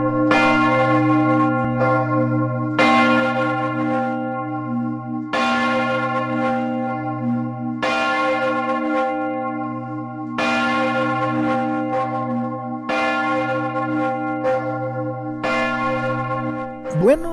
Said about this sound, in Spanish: este repique de campanas invitan a la oración